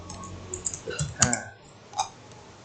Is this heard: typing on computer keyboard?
yes